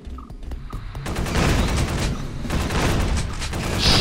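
Shotgun blasts in the sci-fi multiplayer FPS Space Beast Terror Fright, a few sharp reports at the start giving way to a dense, loud barrage of gunfire and booming impacts.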